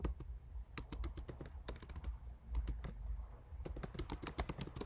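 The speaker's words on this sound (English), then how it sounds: "You can just type something in here too" Rapid typing on a computer keyboard while entering a charge in a payment dashboard, with steady clusters of close, crisp key clicks and short pauses between bursts, no talking.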